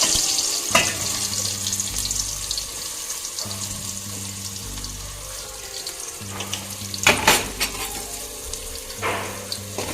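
Onions and panch phoron spices hit hot oil in a pan and give a steady, loud sizzle. A few sharp bursts and clatters from stirring break in, and a low hum runs underneath.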